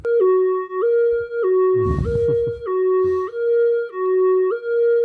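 A Casio MA-100 electronic keyboard plays a wailing ambulance siren preset, two tones alternating steadily, with a brief rustling noise in the middle.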